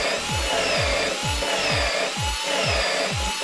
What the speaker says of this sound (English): you get this little ream drill, little boring drill, and you just run it in